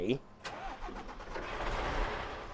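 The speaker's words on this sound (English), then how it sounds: "That's like a car starter sound to it" A video-game truck engine in SnowRunner, a Caterpillar CT680 or Western Star 49X, cranks with a car-like starter and catches, settling into a steady rumbling idle, with a voice talking briefly at the start.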